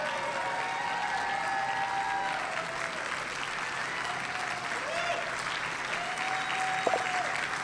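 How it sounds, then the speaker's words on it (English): A crowd claps steadily for several seconds, a dense wash of applause with a few faint voices and whistles rising above it. "Let's give them a round of applause."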